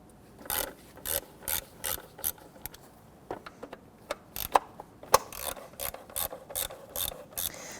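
A ratchet wrench backs out the 10mm bolts on the upper timing cover of a 1992–1996 Toyota Camry 2.2L four-cylinder, giving close, crisp clicking bursts in repeated short strokes with brief pauses between bolts.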